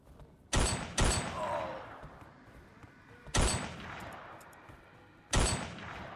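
Gunfire in the horror video game Truth Seekers, a few sharp, separated shots each trailing a short echoing decay, with quieter ambience between them.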